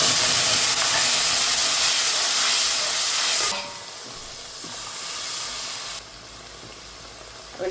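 Spice masala hits garlic frying in a pan for a Gujarati hilsa fish curry, a loud, dense sizzle that drops sharply partway through, then settles into a quieter hiss and drops again near the end.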